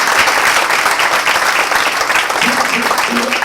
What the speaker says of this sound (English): Let's give another round of applause to Rita Janno.